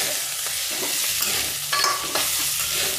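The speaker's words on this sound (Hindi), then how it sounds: "इनको डाल के फ्राई कर देंगे।" Small cubes of boiled potato sizzle steadily in a hot pan with cumin, with scraping stirs at close range and no talk.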